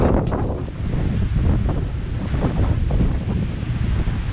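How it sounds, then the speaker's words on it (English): Strong wind buffets the microphone on open hillside in the Cheviot Hills, a loud, steady roaring rush with gusty swells throughout and no voices. "hopefully the wind will die down a bit"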